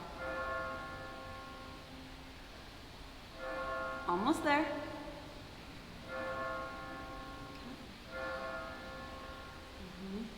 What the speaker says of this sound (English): We'll wait for the bells to stop.